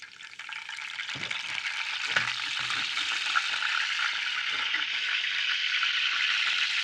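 Curry leaves hit hot oil in a pan, setting off a bright, steady crackling sizzle that stays fairly even throughout. A few soft knocks and stirring scrapes sound near the start, and no voice is heard.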